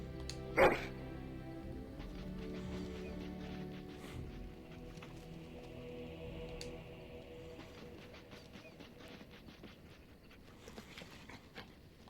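A war dog in the Dragon Age: Origins video game gives a sharp bark near the start, followed by faint panting and whimpers under game sounds and background music.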